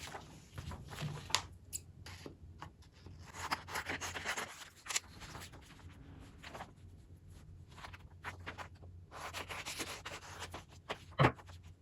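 Scissors snip through a small piece of iron-on fusible appliqué material, giving soft rubbing, rasping cuts in uneven bursts close by, with one sharper crisp snip near the end.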